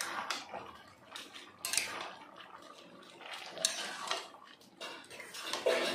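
Fried prawns are stirred into bottle gourd in a pan, with a metal utensil scraping and clinking against the pan in irregular bursts and soft sizzling between, close and fairly quiet.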